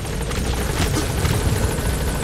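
A helicopter arrives in the video game Metal Gear Solid 5, a loud, steady rotor thump and engine roar close by, with no talk over it.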